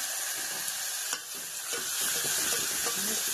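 Tomatoes hit a hot pan with onion, green chilli and garlic for a pumpkin curry, giving a steady close sizzle with scraping stirs of a spoon throughout, no talking.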